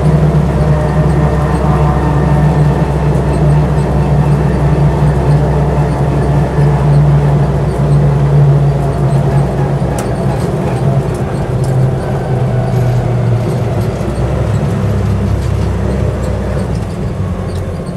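Land Rover Lightweight on leaf springs driving along a road, its engine a steady loud drone with low rumble and road noise throughout, no speech.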